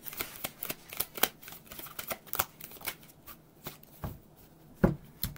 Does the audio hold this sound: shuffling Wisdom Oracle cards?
yes